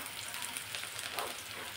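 Finely chopped onion just added to a hot pan for stuffed capsicum, giving a dense, even crackling sizzle that stays steady for a brief moment, close and without talk.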